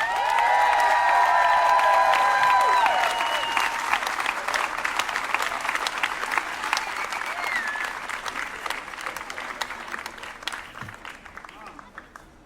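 An audience at a live community music event applauds and cheers as a band takes the stage. The dense clapping is loudest at first, then slowly thins and fades over about twelve seconds.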